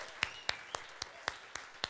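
An audience claps for a band at an evening gig, the applause faint and distant, with sharp separate claps landing in a steady rhythm about four times a second.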